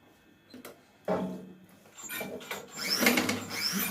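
A sewing machine stitches a blouse in short, uneven bursts of whirring and clatter, quiet and close, building into a busier run near the end with no talk.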